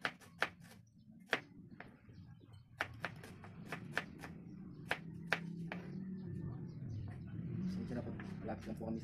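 Road traffic from a nearby street rumbles steadily behind a home kitchen, swelling louder toward the end, while sharp clicks and taps from food preparation punctuate the foreground.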